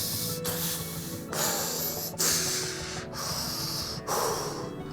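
A man imitates intense heavy breathing, giving a run of forceful, hissing breaths and snorts in an uneven rhythm, close and fairly loud, with no other speech.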